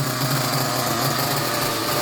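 A small high-pitched nitro engine in a Team Associated RC car drones steadily during break-in with a buzzing, raspy tone, holding a fairly even rev throughout at close range.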